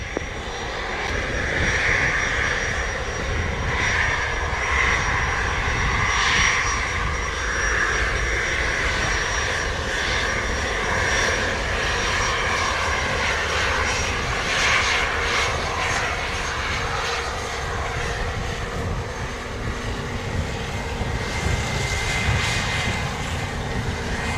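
An Airbus A330 jet airliner at Montego Bay, Jamaica, roars steadily through a takeoff, a broad sustained jet rumble with a thin high whine, loud and continuous with no voices over it.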